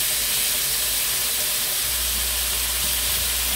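Butter sizzling in a hot pan, a steady hissing spatter that holds evenly and close throughout, with no voices over it.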